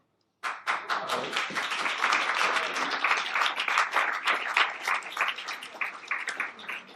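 A crowd at a national award function bursts into applause after a brief silence, dense steady clapping that holds strong and continuous throughout.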